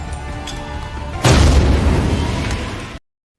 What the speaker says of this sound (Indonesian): Ledakan terdengar, kartel berdatangan, pertempuran pecah.